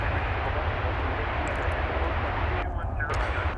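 An American Airlines jet at DFW Airport at night, its engines giving a loud, steady, close roar that holds for several seconds before easing slightly at the end.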